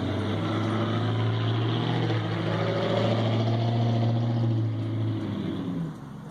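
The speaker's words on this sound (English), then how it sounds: "Let me just get a moment for these cars to go by." Steady engine and tyre rumble of cars passing on a road, continuous and fairly loud for several seconds before easing off at the end, with no talking.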